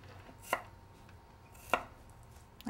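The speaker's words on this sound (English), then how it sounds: "Cut the peel off, cut it into little planks." A knife chopping peeled ginger into small planks on a cutting board: two crisp, well-spaced chops followed by a third at the end, close and fairly quiet in an otherwise still kitchen.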